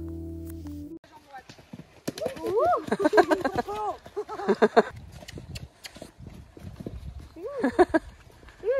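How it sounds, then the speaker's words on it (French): Hooves of a horse being ridden over jumps and a small log in the open, with rhythmic clip-clop thuds and footfalls close by, mixed with talk and brief whinny-like tones. "il saute quand même plutôt pas trop mal pour un cheval comme lui"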